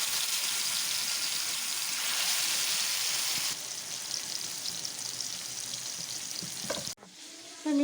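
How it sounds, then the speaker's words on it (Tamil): Fish frying in hot oil on a flat dosa pan, a steady bright sizzle and crackle close by, softening partway through and then cutting off abruptly near the end. "எண்ணெய் நல்லா சூடாகிட்டு இப்போ மீன் எடுத்து வறுக்க வச்சுக்கிட்டு"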